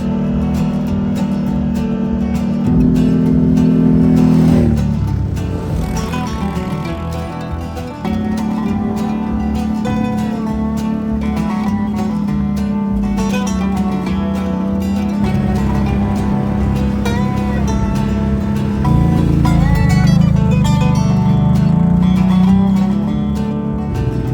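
A CFMoto CForce 500 ATV fitted with a Stage 2 clutch kit climbs mountain trails, its engine droning loud and close without a break and rising in pitch as it accelerates near 3 and 19 seconds.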